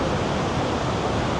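Waterfalls at Krka National Park, Croatia, pouring steadily: a dense, even rush of falling water filling the whole moment, loud and close with no breaks.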